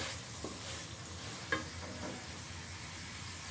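Spices fry in a pan while being stirred, giving a steady close hiss of sizzling oil with a few light scrapes and clicks from a spoon. No one speaks.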